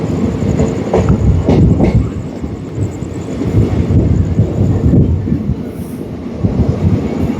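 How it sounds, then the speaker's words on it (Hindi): The Uttaranchal Sampark Kranti express (15035) rolls into Moradabad with a loud, steady rumble of carriages, a rhythmic clickety-clack over the rails and wind buffeting the microphone, with no talk. "अभी हमारी गाड़ी जो है मुरादाबाद जो है एंटर कर रही है"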